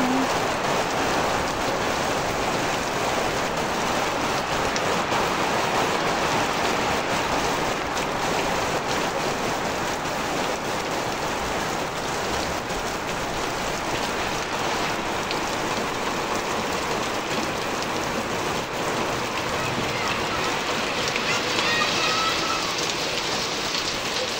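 Steady heavy rain pouring on a rainy Sunday, a dense unbroken hiss of drops on surfaces, loud and close with no talk throughout.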